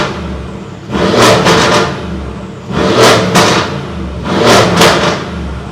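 A 2018 Mercedes-AMG GLC 63 S Edition 1 engine is revved hard three times in evenly spaced bursts, each a loud, close, rising roar that drops back to a rumbling idle in between.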